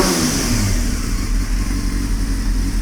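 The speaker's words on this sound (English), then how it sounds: "I'll rev it up a little bit." An engine with a lean-running fault, revved after its gas tank was cleaned, holding a loud, close, steady drone with slight rises and dips and no voices.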